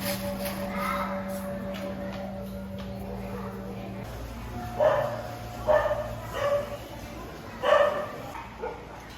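Dogs at a temple give several short barks and yips at middle distance, spaced irregularly over a steady hum of background noise.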